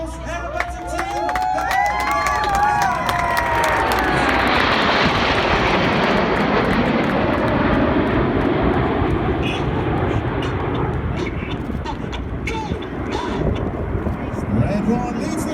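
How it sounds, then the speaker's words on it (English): At an air show, the Royal Air Force Red Arrows aerobatic jets roar overhead in big battle formation, a loud sustained engine rush that swells and lingers, with crowd cheering and an announcer speaking beneath it. "Red 1 leads the aircraft over in big battle formation"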